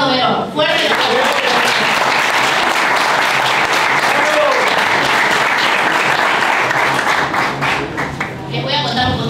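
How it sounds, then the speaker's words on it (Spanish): Loud, dense applause from a large crowd at a political event in San Miguel de Tucumán, sustained and close for several seconds before easing slightly at the end, with some voices mingled in. "Fuerte aplauso"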